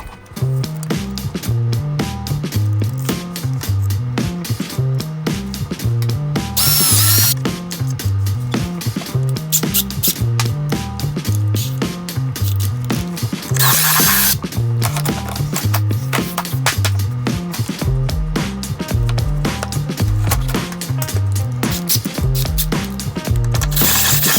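A power drill bores a hole through a door with a continuous, close, grinding whir that pulses rhythmically as it cuts, broken twice by brief louder bursts.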